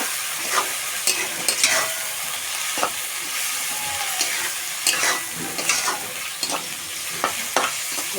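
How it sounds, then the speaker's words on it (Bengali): A spatula stirs and fries spiced food with chilli, turmeric and cumin powder in a pan, giving a steady sizzle broken by sharp scraping strokes at an irregular rhythm, close and moderately loud. "এভাবে নেড়ে করে একটু ভেজে নেব।"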